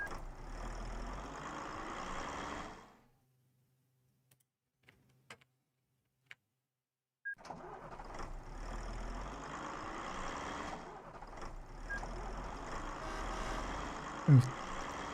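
Truck sound effects from the Transport Tycoon game: engine drone with ticking and clicking sounds, cutting out for a few seconds with scattered clicks, then resuming to the end, with a brief thump near the end.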